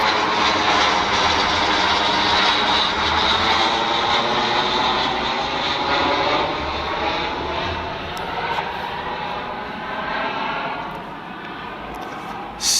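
An airplane passing overhead outdoors, a loud sustained engine roar that holds steady for many seconds with a slowly shifting pitch before easing off slightly at the end.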